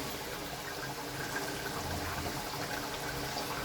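Rinse water from a bowl of ground poppy seed paste is poured into a cooking pan with hot oil, giving a steady, soft splashing and sizzling gush that runs evenly and fairly faintly throughout.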